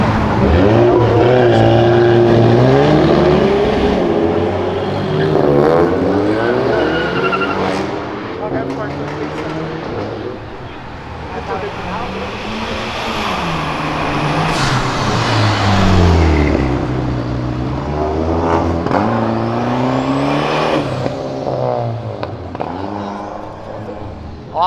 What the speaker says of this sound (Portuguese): esse carro que acabou de passar aqui, ele é um Citroën C5 automático, aquele câmbio L4, que é bem ruim, ele tá turbinado